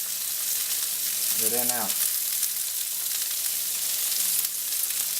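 Vegetables sauté in a hot pan for Thai peanut curry chicken, giving a steady, close frying sizzle throughout while a voice speaks a few brief words partway through.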